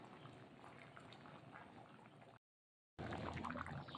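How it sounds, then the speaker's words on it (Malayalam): A shrimp, mango and drumstick curry boils hard in a pot, a dense, steady bubbling and gurgling heard up close. It breaks off for about half a second of silence, then resumes. "അപ്പോൾ നമ്മുടെ കറി നന്നായി തന്നെ തിളച്ച് വന്നിട്ടുണ്ട്"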